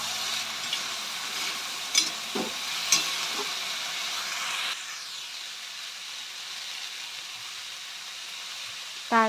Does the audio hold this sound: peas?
yes